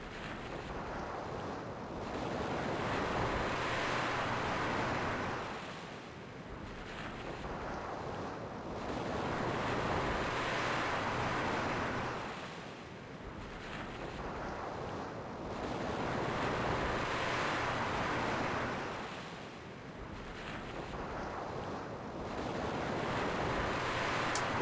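Ocean surf and wind in the Iceclad Ocean zone of the video game EverQuest: steady rushing wind with waves swelling and breaking in slow cycles about every five seconds, continuous and alone with no voices.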